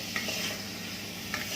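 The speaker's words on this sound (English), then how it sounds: "we add our liquids, it's going to remove that sediment on the pan" Pork adobo sizzling in a hot pan as liquids go in, a steady broadband hiss throughout with two brief brighter bursts near the start and end.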